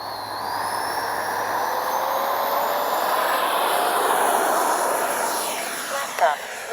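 A 64mm EDF model MiG 29 jet, an RC aircraft on its maiden flight, roars steadily overhead with a whooshing ducted-fan whine that rises and holds, then fades slightly as it passes.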